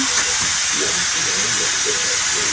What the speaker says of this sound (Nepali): कुकरलाई फेरि धेरै बस्नु परेको